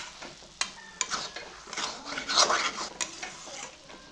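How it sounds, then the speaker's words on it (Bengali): A spoon stirs mustard paste curry in a pan, producing scraping and clinking strikes against the metal over a light sizzle, with irregular bursts and a louder scrape near the middle, close up and without talk. "ভালো করে মিশিয়ে নেব আর 2 থেকে 3 মিনিট নেড়ে চেড়ে নেব।"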